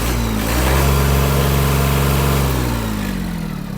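The three-cylinder engine of a Mitsubishi MT-155 mini tractor runs close and loud, revving up to a strong steady drone and then easing back down toward the end.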